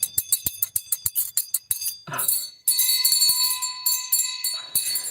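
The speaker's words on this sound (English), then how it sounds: "ring that bell" A bell-ringing sound effect opens with a quick run of sharp clicking ticks, then bright, sustained ringing chime tones sound several times, loud and up close, with no voices.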